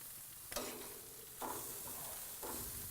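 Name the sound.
cheese being turned over on a grill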